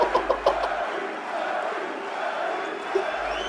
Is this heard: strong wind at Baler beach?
no